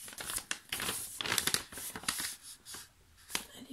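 A decorated mail envelope with things glued onto it is opened by hand, with close, quiet crinkling, tearing and paper rustles in short irregular bursts.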